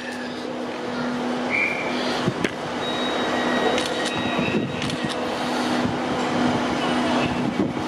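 A Northern Class 150 diesel passenger train departs Stockport station, rumbling steadily with engine hum and occasional clanks and squeals, a constant rolling noise with a few sharper knocks mixed in.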